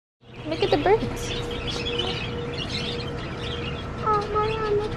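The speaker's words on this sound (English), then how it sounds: "Look at the birds." Small birds chirp and tweet near a bank parking area after a pet store visit, short bright calls scattered over a muffled background with a voice talking beneath.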